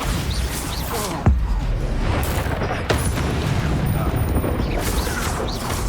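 Bombarda spell explosions in Hogwarts Legacy combat, two sharp cracking blasts spaced about a second and a half apart, loud and near, over a constant roar of battle noise.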